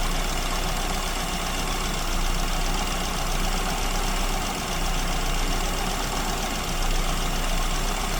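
A carburetted engine idles on a lean idle mixture at roughly 900 RPM, a steady dense drone with a faint knocking texture that holds even and continuous throughout, with no speech.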